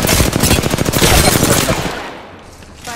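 Rapid automatic gunfire in the Apex Legends video game, a loud, dense burst of shots that tapers off near the end, followed by a short mechanical sound.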